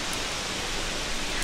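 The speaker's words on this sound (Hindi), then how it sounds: "आज की मॉर्निंग हमारी रेनी मॉर्निंग है and you can see behind me कितनी तेज बारिश हो रही है" Heavy rain falls steadily outside on a rainy morning, a dense even hiss with no breaks across the short stretch.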